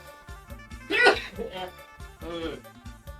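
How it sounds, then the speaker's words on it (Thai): A person sneezes indoors, set off by fumes from stir-fried holy basil cooking nearby. Two sharp, loud sneeze bursts stand out over a steady tonal background. "จามสามทีสามทีแล้ว"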